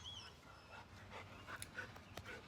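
An old dog of nearly fourteen years pants softly and steadily during an outdoor nature walk, the breathing faint and close against a low background hum, with a few brief higher squeaks.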